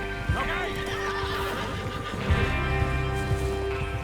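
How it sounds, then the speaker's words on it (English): Horses whinny and neigh loudly with hooves clopping and galloping underneath, busy and close, with some voices mixed in, in the video game Red Dead Redemption 2. "Get your horses ready."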